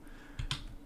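A couple of quiet, close keystrokes on a computer keyboard while typing a short command into Revit, two sharp clicks close together in a soft, steady room hum.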